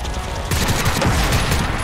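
Dense gunfire rattles in the shooter game Crysis 2, loud and close, with rapid overlapping shots that grow heavier after a brief lighter start and continue without a break.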